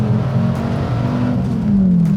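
A Dodge Viper ACR sports car engine drones and booms at a steady high pitch from inside the cabin, loud and continuous, and the note rises slightly toward the end, with no voices.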